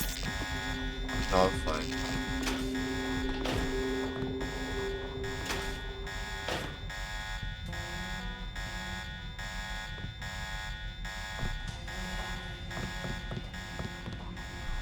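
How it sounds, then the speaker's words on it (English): An electronic alarm in Deus Ex: The Nameless Mod buzzes continuously and steadily all the way through, with game sounds and someone talking over it. "that alarm's really distracting me"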